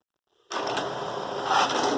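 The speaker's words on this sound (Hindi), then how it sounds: "तो जैसा आप सुन सकते हो प्रिंटर अभी शुरू हो चुका है।" An HP inkjet printer using refilled HP 805 cartridges starts up after brief silence, then whirs and scrapes steadily at close range as the print job begins, without any talking.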